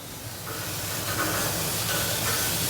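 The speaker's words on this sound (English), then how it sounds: "We're gonna take these burgers, we're gonna put them on the grill" Smash burgers sizzle on a hot grill with a loud, steady, broadband hiss that swells slightly and holds constant up close, without any voices.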